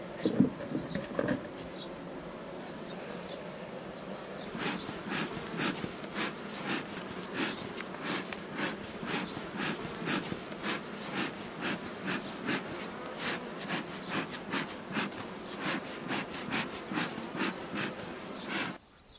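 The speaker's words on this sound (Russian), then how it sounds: "Пчелы во время медосбора очень сердятся" Angry honeybees buzz densely around a hive frame being smoked during the honey flow, a continuous close swarm drone with rapid fluttering wingbeats and light knocks throughout.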